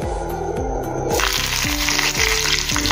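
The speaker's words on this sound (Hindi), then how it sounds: "अभी इसमें हम कड़ी पत्ता डालेंगे" Curry leaves dropped into hot oil with asafoetida and cumin, a close crackling fry that swells into a louder, fuller sizzle partway through, over a repeating tonal hum in the background.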